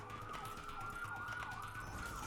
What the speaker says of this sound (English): I also live right beside a hospital, so if you hear sirens in the background